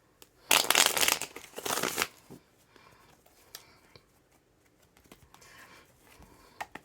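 Tarot cards are shuffled close by in two quick, loud riffling bursts, followed by softer scattered card taps and rustles through a quiet room.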